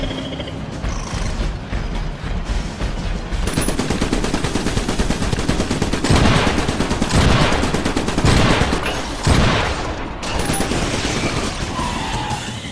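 Shotgun turret emplacement in the game Trenched firing steadily, dense overlapping gunfire blasts filling the whole stretch at close range with louder bursts near the middle, over a mechanical battlefield din.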